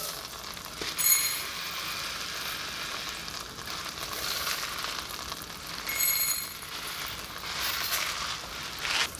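A cup of orzo toasting in melted butter in a skillet gives a steady, close sizzle and fry, with occasional scrapes and louder flares as the pasta is stirred.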